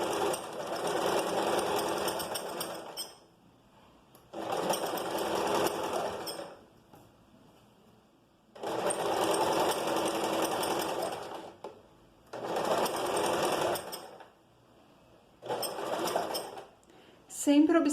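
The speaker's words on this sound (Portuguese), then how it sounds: "posiciono o calcador, desço a agulha, retrocesso no início. E seguimos 1 centímetro de costura." A sewing machine stitching skirt fabric runs in five loud, steady bursts of whirring, separated by quiet pauses where a voice speaks.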